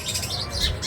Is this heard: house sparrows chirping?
yes